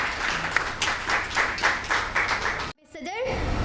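An audience at a World Population Week district event gives brisk, steady clapping to welcome a speaker. The applause cuts off abruptly, and a voice then begins speaking.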